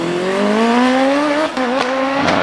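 A hillclimb race car at Prescott flashes under a bridge at about 95 mph, its engine note loud and close and climbing steadily in pitch, with brief crackles near the end and no voices.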